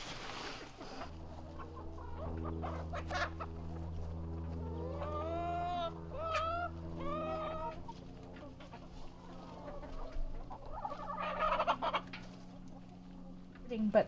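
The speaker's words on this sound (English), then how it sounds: "That cackling that you hear, that walk, walk, walk, walk, walk, that's a chicken having an egg laying party" A hen on an organic farm cackles after laying an egg, a series of rising, repeated clucks over a steady low mechanical hum, with a louder burst of cackling toward the end.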